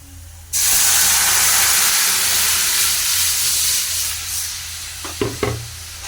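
Spices are tipped into onions frying in hot oil for a greens and lentil rasam. A loud, steady sizzle and hiss starts abruptly and carries on, with a few scraping stirs near the end.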